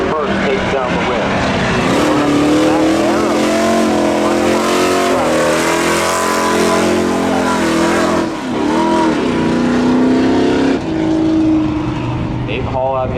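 Drag race cars launch and accelerate at Seekonk Speedway spectator drags, engines roaring with rising, wavering pitch over about thirteen seconds, loud and fairly close, with short dips between gear changes.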